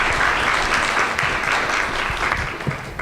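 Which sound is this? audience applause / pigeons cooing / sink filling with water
audience applause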